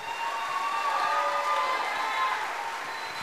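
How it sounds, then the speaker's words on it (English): Audience applause at a Lake View mariachi performance by Los Caciques, steady dense clapping with some cheering that holds at an even level throughout, with a sustained musical tone running beneath the crowd. "can we give it one more round of applause to Miss Clarissa Rodriguez?"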